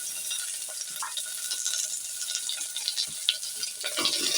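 Onions and curry leaves fry in hot oil for a Tamil drumstick and jackfruit-seed masala, giving a steady, close hiss of sizzling with small crackles and pops throughout, and no talking.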